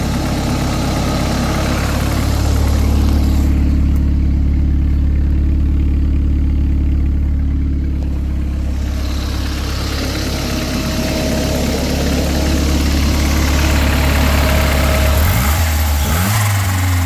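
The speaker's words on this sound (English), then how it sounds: "that's her idling." A tuned turbocharged car engine idles steadily, close and loud, with a deep low rumble and a constant mechanical drone, shifting slightly near the end.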